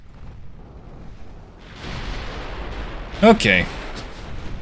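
A torpedo hits a battleship in the naval video game Ultimate Admiral Dreadnoughts, heard as a low rumbling boom that swells midway and lingers, with someone briefly speaking over it.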